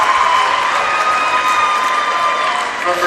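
A crowd applauds at a girls basketball championship, with sustained loud clapping and cheering in a large gym, steady throughout and with a few shouts mixed in.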